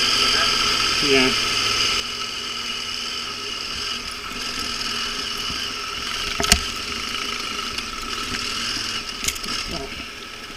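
An overheating motorbike engine idles at the roadside during a European touring trip, a steady mid-pitched rumble with slight vibration running throughout while someone speaks briefly over it.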